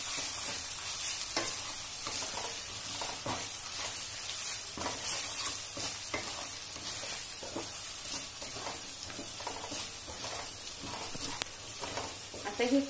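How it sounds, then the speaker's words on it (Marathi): Ginger-garlic paste sizzles and fries with onions in a pan for a misal masala, a steady close crackle with repeated stirring scrapes throughout. "दोन चमचे आलं लसूण पेस्ट मिक्स करून घेत आहे"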